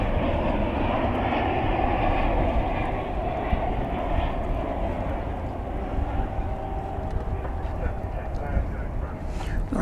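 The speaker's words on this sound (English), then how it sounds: "that is the American flight to El Paso. An Airbus" An American Airlines Airbus A319 bound for El Paso passes at DFW Airport as a steady, moderate jet engine rumble that eases slightly toward the end, with faint background voices.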